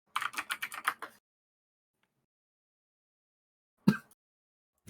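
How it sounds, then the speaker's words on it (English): Loud computer keyboard typing comes through a Discord voice chat during a New World game session: a quick burst of about eight clacky keystrokes, then a long silence, then a single isolated key hit. "someone's got a loud ass keyboard."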